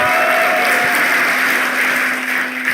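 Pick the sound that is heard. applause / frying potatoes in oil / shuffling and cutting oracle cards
applause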